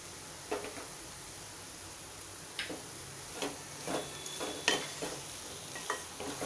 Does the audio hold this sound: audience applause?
no